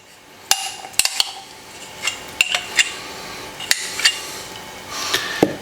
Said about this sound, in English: And we'll just stir this up